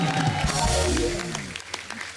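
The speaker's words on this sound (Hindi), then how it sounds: "जोरदार तालियां होनी चाहिए" Studio audience applause on The Kapil Sharma Show greets a guest, loud clapping mixed with voices or tonal sound at first, then tapering to scattered claps.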